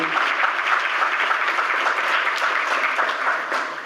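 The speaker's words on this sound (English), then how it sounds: "All righty, let's clap it up for Mr. Ludwig." Sustained applause fills a room of attendees at a meeting on food access in Arkansas, dense and even for several seconds, loud and close, with no voices over it.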